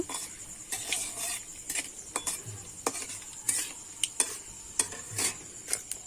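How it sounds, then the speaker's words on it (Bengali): Dried red chilli and nigella seeds frying in oil, a soft sizzle broken by repeated clinks and scrapes of a spoon stirring against the pan, close and quiet with no talk. "আমি ভালো করে শুকনো লঙ্কাটা আর কালো জিরেটা একটু ভেজে নেব।"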